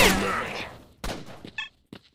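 Gunfire in S.T.A.L.K.E.R.: Shadow of Chernobyl: a loud opening burst of shots fades away, followed by several sharper single cracks spaced irregularly.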